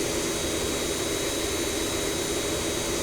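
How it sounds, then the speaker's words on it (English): An MD-80 jet in the Rotate flight simulator gives off its engine buzzsaw fan sound on takeoff, a loud, steady, dense roar with a bright whining edge that holds unbroken throughout. "You can hear a lot more of the sort of buzzsaw fan effect on takeoff"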